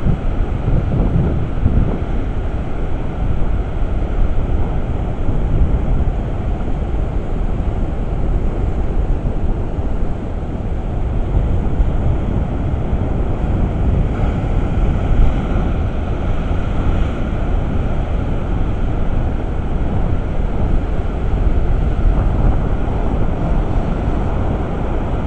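Rough sea pounds the shore by the A Coruña aquarium in Galicia, a constant loud roar of waves and surf with heavy wind buffeting the microphone throughout.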